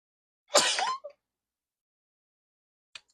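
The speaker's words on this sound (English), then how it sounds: "oh no, I have to sneeze" A single sharp, close sneeze bursts out of silence, followed by a short breathy catch and, after a quiet pause, a faint brief click.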